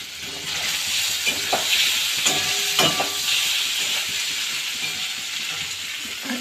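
Paneer sizzles in hot oil in a wok, a steady bright hiss and crackle that runs the whole time, with a few sharper pops and stirring scrapes along the way.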